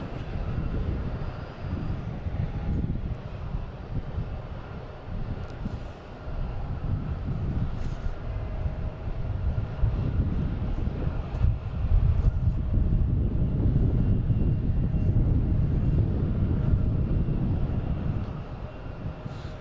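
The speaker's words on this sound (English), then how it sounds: "Just had a Delta come in from LaGuardia." A Delta jet from LaGuardia arrives at Boston Logan International Airport, a long, loud low rumble of jet engines swelling and rolling on, with wind buffeting the microphone throughout.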